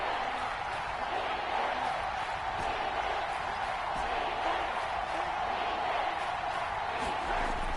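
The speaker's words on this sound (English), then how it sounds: "The crowd getting into it as we come up on a big 3rd down." A stadium crowd in the Madden 22 football video game roars steadily ahead of a big third down, a dense, continuous wash of cheering and noise that stays loud for the whole stretch without easing off.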